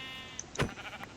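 A single short sheep bleat from a survival video game, rising briefly and clearly near the middle of a quiet stretch with faint background game tones.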